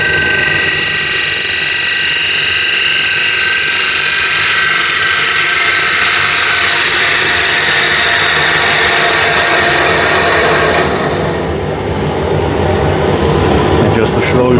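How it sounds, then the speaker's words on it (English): A wood lathe runs with a loud, steady whir while a gouge cuts the wood, producing a continuous rough hiss that eases briefly before resuming. "So now again with the same gouge,"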